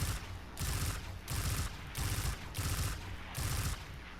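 An exotic weapon in the shooter Destiny 2 firing while aimed down sights: six evenly spaced bursts of rapid, crackling gunfire, each about half a second long with short gaps between, loud and close with no talking.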